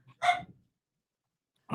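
A dog gives two short barks, one early and a softer one after a pause, quiet and alone.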